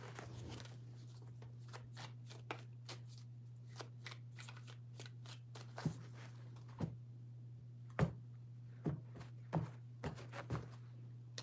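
Tarot cards being shuffled in a series of crisp riffling bursts and soft slaps, several sharp thumps toward the end, close and clear over a steady low electrical hum.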